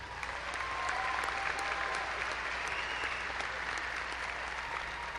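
Graduation crowd at a university fall commencement gives a long, even round of applause, dense and continuous clapping filling a large hall with no voices over it.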